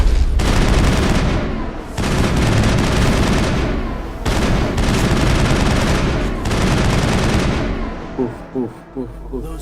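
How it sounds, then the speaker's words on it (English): Heavy sustained gunfire in a video game shootout, dense overlapping bursts of automatic fire and shots, loud and close, with brief gaps between volleys before tapering into scattered reports. "doesn't anyone know that there was bullets shooting out here?"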